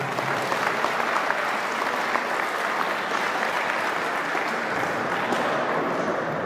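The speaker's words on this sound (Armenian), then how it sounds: "Ծափահարություններ մարզաշխարհին" An audience at an international powerlifting championship opening in Armenia applauds the athletes, with sustained dense clapping that stays even throughout and a few crowd voices mixed in.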